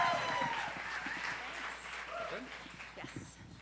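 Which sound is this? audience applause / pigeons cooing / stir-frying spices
audience applause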